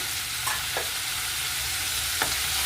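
Fresh green peas sizzle in a hot pan for capsicum rice, a constant frying hiss broken by a few quick stirring scrapes, close and even, with no talk.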